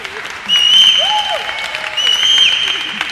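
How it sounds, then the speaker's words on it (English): Hands clapping in a lively gathering, a steady patter of claps starting after a brief pause and continuing throughout, with faint voices and a whistle-like tone in the background. "The way she's clapping with two hands, Jocelyn"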